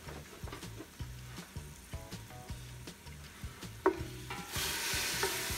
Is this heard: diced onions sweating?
yes